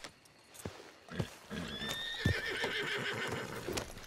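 A horse in Red Dead Redemption 2 gives a loud, drawn-out whinny after a few hoof clops, with soft hoofbeats continuing beneath it.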